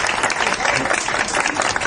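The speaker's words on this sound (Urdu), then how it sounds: "تالیاں کیوں بجا رہے ہیں؟" A studio audience at a Pakistani comedy show applauds in a loud, dense burst of clapping that runs steadily throughout, with no talk.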